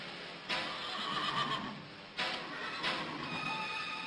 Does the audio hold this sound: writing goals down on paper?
no